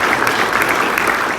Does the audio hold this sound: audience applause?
yes